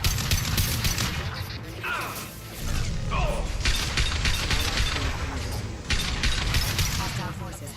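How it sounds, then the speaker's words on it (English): Rapid video game gunfire in Mass Effect 2, dense crackling bursts of automatic shots and impacts with mechanical clatter, loud and continuous, with voices speaking over parts of the fight. "Firing."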